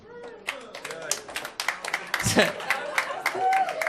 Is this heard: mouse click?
no